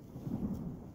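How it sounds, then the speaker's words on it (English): Distant thunder from an Arizona monsoon storm rolls as a low, soft rumble over a faint wash of rain, brief and quiet with no voices. "I'm starting to hear a little bit of thunder, a few raindrops are falling"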